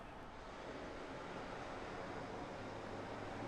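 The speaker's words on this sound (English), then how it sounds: "waking up to the sound of the waves" Steady ocean waves wash onto a beach on an overcast morning, a constant broad rushing surf with some wind, fairly soft and continuous, with no voices.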